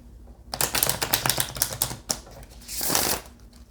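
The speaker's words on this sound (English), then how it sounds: "shuffling and getting the cards on the board" Tarot cards being shuffled by hand, a quick run of crisp clicking snaps followed by a short, louder riffling swish, close and otherwise quiet.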